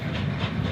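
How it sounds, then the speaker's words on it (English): A steam train runs on the Settle and Carlisle Railway, a loud, close, steady rumbling rush with hissing that fills the whole moment, and no talking over it. "Many people lined the route to see the train pass through."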